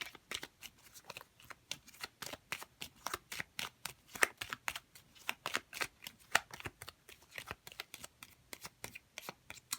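Tarot cards are shuffled continuously at close range, a fast, steady run of crisp riffling flicks and soft slaps with no talking over them.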